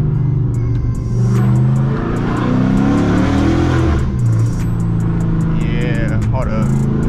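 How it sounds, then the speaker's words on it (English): Loud 2019 Dodge Charger RT Widebody engine revving and downshifting in rapid blips during a drive, rumbling exhaust rising and falling with crackling pops, while a voice shouts excitedly over it. "don't play with these downshifts"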